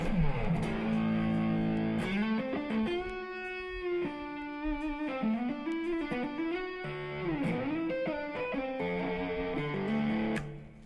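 An electric guitar plays through the blues power channel of a Blackstar amp, with driven, slightly distorted sustained notes and chords, bends and slides, loud and alone without talk.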